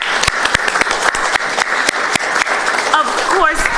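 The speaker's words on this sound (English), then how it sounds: "Let's give them a big hand clap, everyone." An audience at a city council meeting claps in a sustained round of applause, dense and close, rising near the end as a voice speaks over it.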